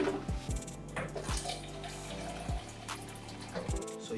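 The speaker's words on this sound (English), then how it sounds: "then you pour the salt water away and wash it again with clean water" Ginger is rinsed under a running tap, a steady splashing stream broken by several sharp knocks and clatters of the pieces and a bowl, close and moderately quiet.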